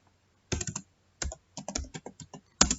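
Commands are typed on a computer keyboard while configuring a Fast Ethernet network interface: several quick, close bursts of key clicks separated by short pauses, ending with a firm keystroke. No voices are heard.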